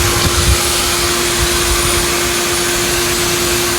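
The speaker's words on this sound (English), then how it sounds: "Okay, so this is a shop vac." A shop vac runs steadily and loudly while sucking hard against a drum, giving a constant roaring whine with a strong sustained tone and airy hiss, unbroken throughout.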